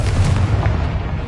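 A Confringo blasting spell exploding in the video game Hogwarts Legacy, a loud, deep, rumbling boom that fills the short moment and slowly tails off.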